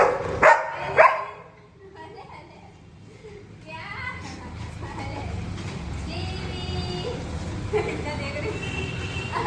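A small street dog barks and whimpers up close amid playful baby-talk and children's voices, short yips in the opening seconds followed by ongoing chatter and background noise.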